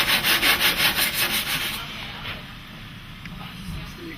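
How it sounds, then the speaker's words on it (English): Sanding a cracked surfboard deck during ding repair, a steady rhythmic rasping stroke near the mic that is loud and regular at first, then fades to softer, lighter rubbing. "we're going to go ahead and sand this one down as well"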